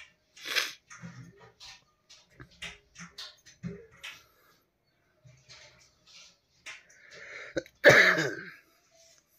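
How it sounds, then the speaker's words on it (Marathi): Several rough coughs and throat clearings come in short bursts with pauses between, ending in a louder, harsher cough. "थंड पाणी पिल्यामुळे खोकला"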